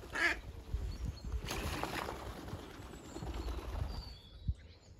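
Ducks quack near and far across a Norfolk broad at Hickling on a morning with Egyptian geese around, along with occasional wing flaps and soft outdoor ambience.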